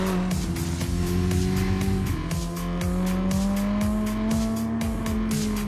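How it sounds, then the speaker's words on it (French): A Tributo sports car's engine roars and revs steadily while its tires squeal in long sustained drifting slides, loud and close. "Juste de quoi s'amuser un petit peu dans la dérive"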